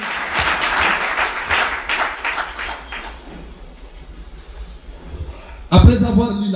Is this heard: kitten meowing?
no